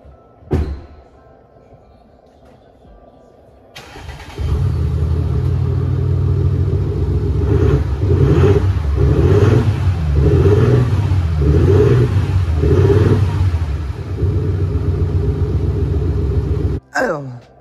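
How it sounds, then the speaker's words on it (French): An Audi S4 diesel engine cranks and catches, then idles loudly with several rising revs in a rhythmic series before settling and cutting off. "après avoir démarré la voiture"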